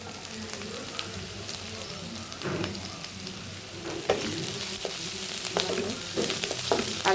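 Ginger garlic paste and turmeric sizzling in a hot pan of fried onions for a broad bean curry, a continuous crackling fry punctuated by scraping stirs and occasional utensil clinks.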